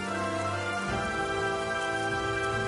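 Steady rain falls in the video game Dynasty Warriors 9, a continuous even hiss over a constant layered background of game music with no speech.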